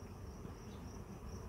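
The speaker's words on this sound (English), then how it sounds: "Bees everywhere." A swarm of honeybees returning home fills the air with a faint, continuous droning buzz, steady and diffuse with no voices.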